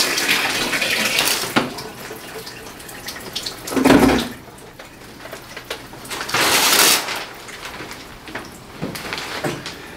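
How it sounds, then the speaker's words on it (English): Shower water running steadily as a broadband hiss, with a louder surge near the fourth second and again around the seventh second, indoors with no talking. "I'm gonna take a shower now."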